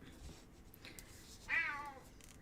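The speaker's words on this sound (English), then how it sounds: "Meow." A house cat lets out a single faint, rising-and-falling meow in a quiet indoor room during dollhouse kit crafting, with soft background rustling and no talk over it.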